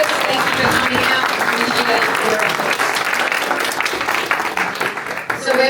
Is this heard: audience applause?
yes